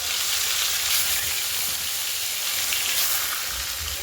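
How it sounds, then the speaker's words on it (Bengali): Catla fish frying in mustard oil, a loud, close, continuous sizzling hiss like heavy rain that holds steady throughout. "ওই তেলের মধ্যে সর্ষের তেল দিয়ে মাছটাকে ভেজে নেব।"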